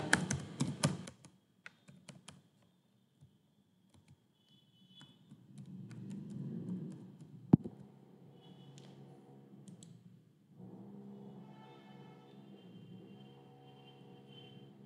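Someone types an email address and password on a computer keyboard during a PC app sign-up. A quick burst of keystrokes opens, followed by scattered single clicks and then a low, steady hum.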